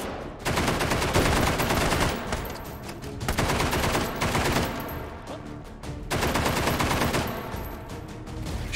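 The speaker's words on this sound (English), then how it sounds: "I'm gonna try shooting with a gun" Rapid bursts of automatic gunfire from a gun in the VR game Hot Dogs, Horseshoes & Hand Grenades, three long loud volleys separated by brief pauses, close and sharp with no talking.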